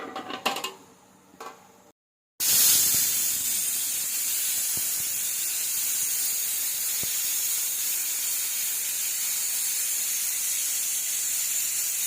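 After a brief clatter, a pressure cooker vents steam in a loud, continuous hissing whistle that goes on steadily for about ten seconds.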